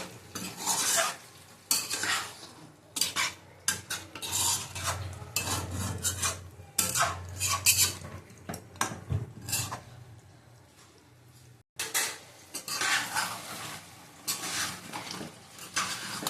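Chicken kosha being stir-fried in a pan over high heat: a steady sizzle under repeated scraping and clinking of a metal spatula against the pan, loud and close, with brief pauses between bursts of stirring.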